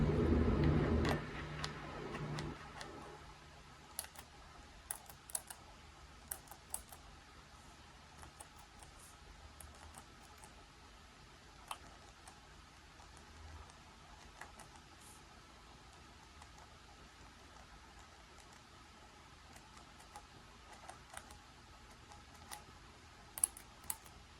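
Cherry MX mechanical keyboard switches are pressed one after another, close to the microphone, producing sparse, irregular sharp clicks and clacks over a quiet background with no talking.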